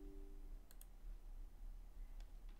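A computer mouse clicked quickly twice in a quiet room, two faint sharp ticks close together, followed later by a couple of softer clicks over low background hum.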